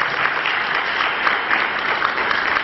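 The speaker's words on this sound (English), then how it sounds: "I would like all of you to give a round of applause for Lafarge." Conference audience applauding for Lafarge, a dense, even wash of many hands clapping that holds steady at full strength from start to finish with no talk.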